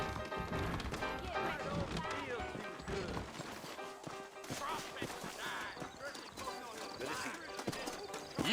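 Horse hooves clip-clop in the Red Dead Redemption remaster, steady and mid-distance, mixed into a dense bed of game music and effects while a voice talks over them.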